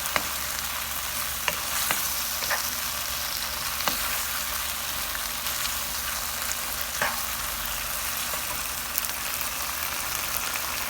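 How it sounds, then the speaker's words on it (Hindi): Capsicum and onion sizzle steadily in a hot pan for chilli chicken, a continuous broadband frying hiss with occasional soft clicks of stirring, close and alone without any talk. "अब हम इसमें कैप्सिकम ऐड कर देंगे और कैप्सिकम को भी ऐड करके हम इसको तकरीबन 1 मिनट तक पकाएंगे"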